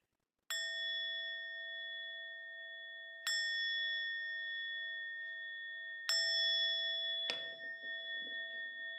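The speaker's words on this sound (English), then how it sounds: "And again, coming in with the bell." A meditation bell is struck three times at even intervals. Each strike gives a clear, sustained ring that hangs in the air, and a faint rustle follows the last strike.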